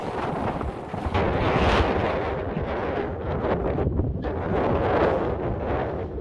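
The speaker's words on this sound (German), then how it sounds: "und der Wind, der ist hier oben. Da merkt man dann wieder, dass der ziemlich stark ist." Strong wind in the Scottish Highlands buffets the microphone in a steady, loud roar with gusty surges throughout, no voices present.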